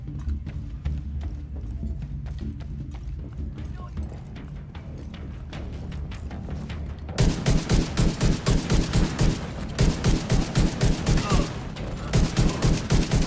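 Sustained full-auto gunfire in The Division 2 bursts in loud, rapid, evenly spaced volleys after a quieter opening stretch with a player talking.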